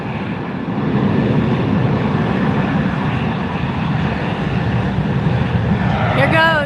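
A JetBlue airliner in special livery roars steadily at a Fort Lauderdale airport, a loud, sustained broadband engine rumble holding throughout, with a brief voice near the end.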